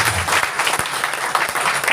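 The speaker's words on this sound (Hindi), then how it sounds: "उनके लिए भी एक और जबरदस्त तालियां" Dense audience applause for Mr. Sukhnam Singh at a motivational talk, many hands clapping steadily and loudly throughout.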